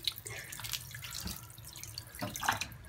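A kitchen tap runs over cleaned crab being rinsed, a close, steady splashing stream with dripping and brief spatters as the pieces are turned under the flow, no voices.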